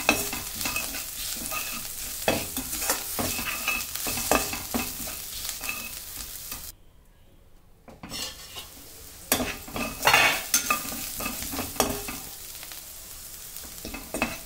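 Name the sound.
stirring and frying spiced peas in a pan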